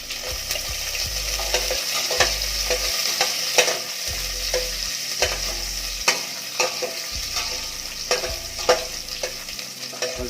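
Onions and browned garlic frying in a pan for a Filipino tomato-chicken dish, a steady close sizzle broken by repeated scraping stirs and knocks of the spoon against the pan.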